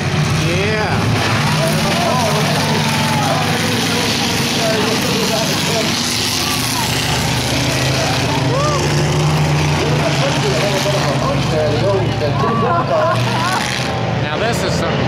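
Multiple race cars roar continuously on a track during a hit-to-pass trailer race, a dense engine drone with crowd or announcer talk running over it.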